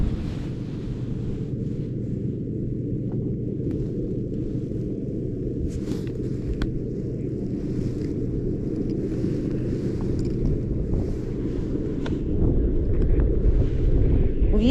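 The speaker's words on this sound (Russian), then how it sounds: "Вот такой вот ветер." Strong stormy wind buffets a fishing boat, roaring in a loud, steady low rush that swells toward the end, with faint splashes and knocks above it.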